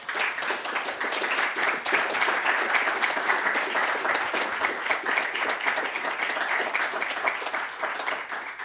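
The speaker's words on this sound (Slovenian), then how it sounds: "Dajmo en aplavz." Audience at an award ceremony for a government prize competition applauding a doctoral award winner: a full, steady round of crowd clapping that holds at an even level, tapering slightly at the end.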